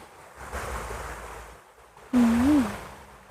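A clear, deep stream with large stones beside a campsite in Saraburi, Thailand, gives a soft, continuous rushing wash, with a brief louder voice-like tone near the end.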